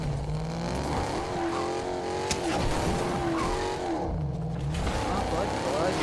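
Car engine and tire noise while driving in the video game Fortnite, revving and skidding steadily under loud, continuous game sounds, with voices talking over it throughout.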